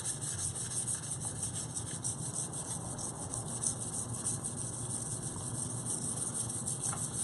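A blade worked steadily on a coarse natural sharpening stone, a continuous low rubbing rasp with faint rhythmic strokes, close and fairly quiet beneath a constant high electrical whine.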